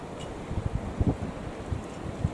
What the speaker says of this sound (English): In the cold wind.